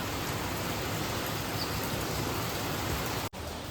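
Steady, even rain hisses throughout, a dense wash of falling drops with no voices and one brief dropout near the end.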